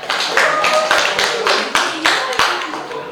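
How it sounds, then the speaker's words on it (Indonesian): Classroom students clap after a group presentation in a teaching session, a close, loud burst of individual hand claps in an uneven rhythm with some distinct sharp slaps. "Tepuk tangan dulu untuk kelompok hidrogen"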